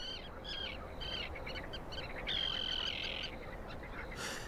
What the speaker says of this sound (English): the sound of prayer is broken by the calls of thousands of birds